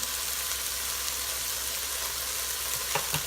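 Tomato paste sizzles in a pan while Spanish rice is being made, a steady soft hiss of frying with a couple of faint stirring clicks near the end, no voices.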